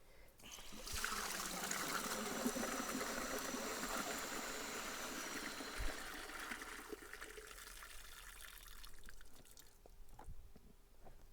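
Waste pours from a toilet cassette into a disposal hole. A steady gurgling rush of liquid runs for several seconds, fairly faint, then thins to a trickle and drips near the end.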